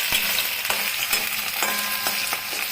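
Onions and potatoes fry in a pan for a prawn and potato curry, giving a steady loud sizzle with a few soft clicks of stirring and no voices.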